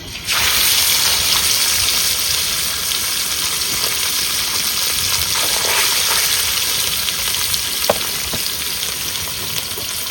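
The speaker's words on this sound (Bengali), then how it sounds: "হালকা করে গুলি মাছগুলো ভেজে নেবো" Loud, continuous sizzling of small fish frying in hot oil, close up, with occasional crackles and pops through the steady hiss.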